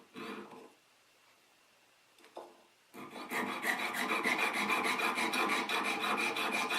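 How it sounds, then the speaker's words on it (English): Jeweler's saw cutting through a coil of wire for jump rings, held on a bench pin; a brief scrape, a pause, then a steady, close rhythmic rasp of rapid sawing strokes. "cutting forward, but I'm cutting through about 3 to 4 jump rings at the same time"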